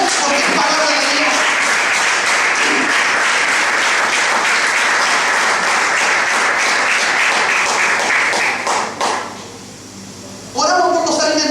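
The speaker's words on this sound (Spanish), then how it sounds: "apláudale fuerte y mal a nuestro Dios" A church congregation applauds in a thick, continuous wash of clapping that dips briefly near the end before a voice cuts back in over it.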